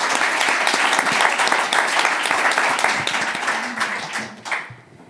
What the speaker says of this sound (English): So a round of applause for such a great film.